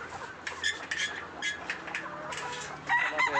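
Chickens cluck and squawk in short, repeated bursts around a village farmyard, fairly close and moderately loud, with no talking.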